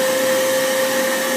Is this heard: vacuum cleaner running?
yes